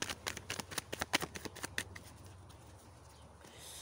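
Tarot cards being shuffled by hand for a three-card reading: a quick run of riffling, flapping card slaps for about two seconds, then settling into a soft rustle, close and alone.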